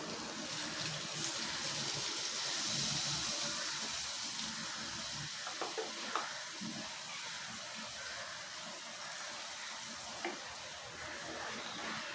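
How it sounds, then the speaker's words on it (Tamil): Tamarind water pours and splashes steadily into a cooking pan for an onion kara kuzhambu, a continuous hissing wash of liquid with a few small clicks of utensils partway through. "ஒரு லெமன் சைஸ் நான் புளி கரைச்சி வச்சுருக்கேன் அதை ஊற்றிடலாம்"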